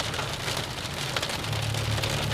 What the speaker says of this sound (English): get out of this hail and rain